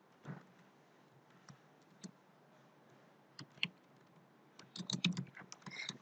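Quiet typing on a computer keyboard: scattered single keystrokes at first, then a brisk cluster of clicks near the end, faint and close with soft background hum.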